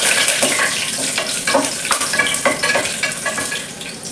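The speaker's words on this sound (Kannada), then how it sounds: "ಸ್ವಲ್ಪ ಮೆಣಸಿನ್ಕಾಯಿ, ಕರ್ಬೇವಿನ ಸೊಪ್ಪು ಮತ್ತೆ ಪಲಾವ್ ಎಲೆ, ಇದನ್ನ ಸ್ವಲ್ಪ ಫ್ರೈ ಮಾಡ್ಕೋಬೇಕಾಗತ್ತೆ" Green chillies, curry leaves and a bay leaf crackle and sputter in hot oil for masala rice, with bursts of spitting and stirring scrapes over a constant close sizzle, no talking.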